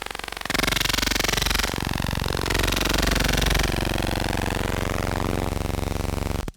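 Harsh, loud digital noise from an image file converted into audio buzzes and screeches in blocky bursts, with warbling tones sweeping through a dense wall of static.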